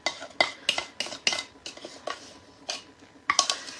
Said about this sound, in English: Just get it mixed up real good so you have that cornbread mix all the way through it